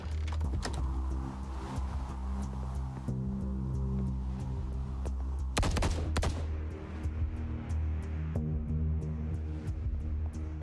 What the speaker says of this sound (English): you didn't feel like telling me there was gunshots that time?